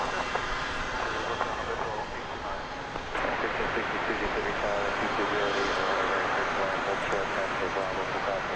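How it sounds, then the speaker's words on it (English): A United Airlines Airbus A319 jet arriving from Denver lands at DFW Airport, its engines producing a steady, loud roar throughout with a slight swell partway through. "that flight just came in from Denver in Airbus A319, United Airlines"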